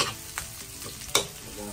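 Pork and string beans for adobo sauté in a pan with garlic and onion, a steady sizzle broken by a few sharp scraping stirs of a utensil against the pan, close up.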